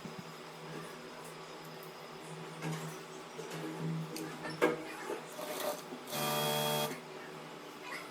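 A sewing machine stitches a co-ord set with a round collar, its motor running in one short, steady burst near the end after quieter handling noises.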